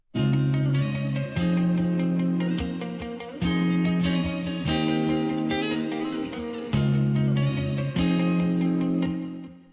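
A guitar strums chords in a steady rhythmic pattern, its tone colored by effects, with no voices.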